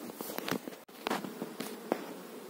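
Honeybees buzz faintly around beehives among flowering lavender, with brief hums and soft flutters as insects pass close by in the open air.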